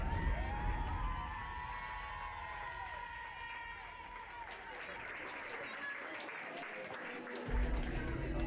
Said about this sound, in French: Mesdames et messieurs, je vous demanderai d'applaudir la remise des prix du concours complet poney indé minime et moins